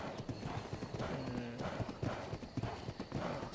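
Hooves of an Equus zebra mount galloping in ARK Mobile beat out a quick, steady clip-clop rhythm at close range, with a short whinny-like tone partway through.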